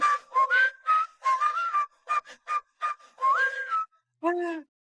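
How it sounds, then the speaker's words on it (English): A person whistles a melody in bright, wavering notes with short gaps between phrases, close and clear, ending on a lower held tone. "You wanna pause it and I'll whistle it?"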